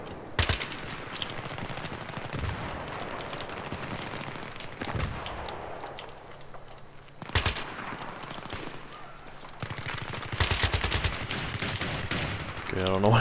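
Enemy gunfire in Battlefield 3 with loud bursts of rapid automatic fire and single sharp shots cracking over a steady rumbling battle din, the heaviest clusters coming near the start, middle and end.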